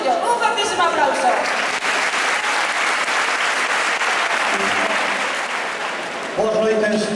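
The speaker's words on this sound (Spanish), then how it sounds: "Un fortísimo aplauso." Loud, sustained audience applause welcoming a singer at a charity music festival, dense clapping filling the room with a few voices and cheers mixed in near the start and end.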